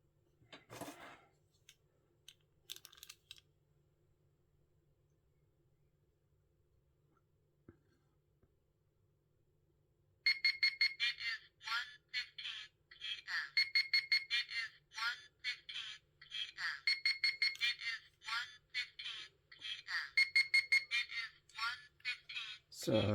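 A vintage RadioShack talking pedometer sounds its alarm, a rapid, repeating electronic beeping pattern that starts abruptly after a quiet stretch with a few faint handling clicks and runs steadily to the end.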